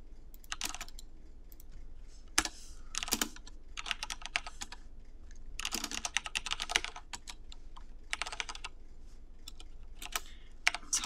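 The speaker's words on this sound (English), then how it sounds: "It's hard to do this when I'm trying to type so fast." Fast typing on a computer keyboard, close and crisp with bursts of rapid key clicks separated by short pauses, steady throughout.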